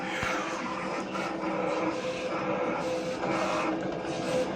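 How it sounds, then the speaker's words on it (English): A Roland SP-300i printer/cutter running a perforation cut, a steady mechanical whir and rattle of the carriage with rhythmic clicking, continuous and fairly loud throughout with no talk. "there's the perf cut"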